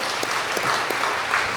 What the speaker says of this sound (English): we'll applaud you and acknowledge you for being here today